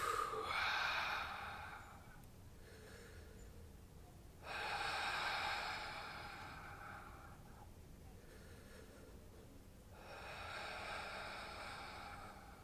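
Deep belly breaths, slow and audible, with long airy inhales and exhales in three broad swells separated by quieter pauses, close and fairly soft.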